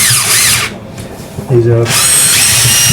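A power drill spins plumbing drain rods in loud, close whining bursts, stopping briefly before revving again, while someone talks over the noise.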